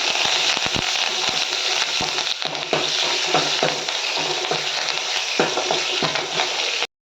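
Garlic, asafoetida and curry leaves fry in hot oil, giving a loud, close, crackling sizzle with sharp pops and spatula clicks that cuts off abruptly near the end.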